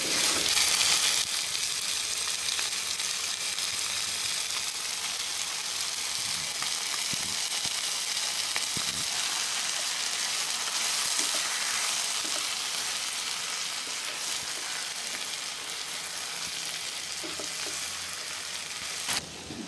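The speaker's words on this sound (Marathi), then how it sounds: "त्याच्यात आपण आलं लसूण पेस्ट घातलेली आहे ना, त्याचा कच्चटपणा जाईपर्यंत आपण छान परतून घेऊया" Ginger garlic paste sizzles and fries in hot oil in a pan for a South Indian style chicken dish, giving a steady, close crackling hiss with a few stirring scrapes and no talking.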